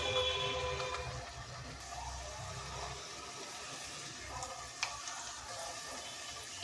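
Spice paste sizzling in hot oil with turmeric and cumin powder stirred in, a steady soft frying hiss with occasional light scrapes and a brief clink, and no talking.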